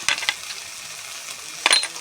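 A spoon stirs chili powder and turmeric in a hot pan, giving a few sharp metallic clinks over a soft, steady sizzle, close and alone without talk.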